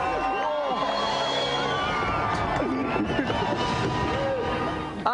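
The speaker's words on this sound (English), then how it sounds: "Another round of applause for our special guests, Rupert Moon and Debbie Morris!" Loud, dense studio audience noise of cheering and whooping with applause-like clatter on a TV game show, sustained throughout, with voices mixed into the din.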